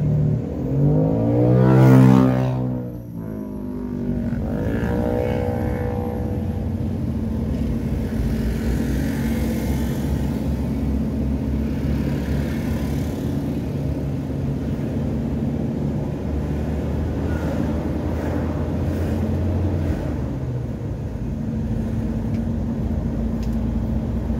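A car drives along the road home from Takengon, its engine and tire rumble a steady, close drone that swells briefly at the start and holds evenly throughout, with no talk.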